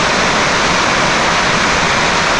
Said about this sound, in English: It's just a super heavy rain.